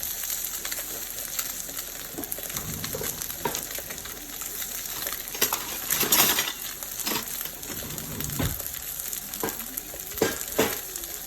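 Spiced barramundi fish sears in a hot pan, giving a steady close sizzle with crackling pops and a few louder sputters, heard alone without talk.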